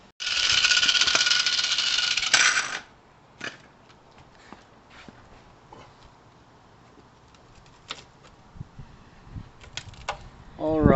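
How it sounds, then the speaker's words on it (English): An angle grinder cutting rusted metal on a 2003 VW Beetle, a loud steady high-pitched whine for about three seconds that stops abruptly, followed by quiet shop taps and clinks. "he's gonna start grinding again."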